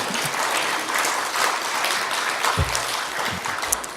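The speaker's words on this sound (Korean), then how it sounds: "주님께 영광의 박수 올려드리는데요" A church congregation claps in praise during a Korean sermon: loud, dense applause from many people that continues for the whole stretch, with a few heavier low thumps near the end.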